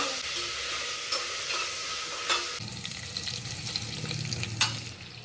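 Steady scraping and stirring of an onion mixture in a hot pan, with a continuous close sizzle of frying underneath and a few sharper knocks of the spoon against the pan.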